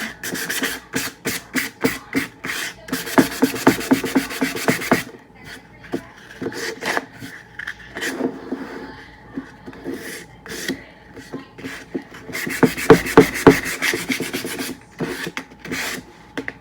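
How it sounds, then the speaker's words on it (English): Painted furniture is lightly sanded by hand to distress it, with bursts of quick, rhythmic rasping strokes, close and fairly loud, separated by pauses and scattered single scrapes. "Gonna lightly sand on here to distress it a bit."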